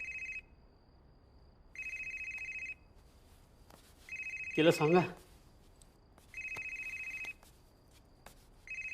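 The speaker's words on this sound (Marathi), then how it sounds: "फोन वाजतोय" A telephone rings in regular bursts, each about a second long with short pauses between, while a person briefly speaks in the middle.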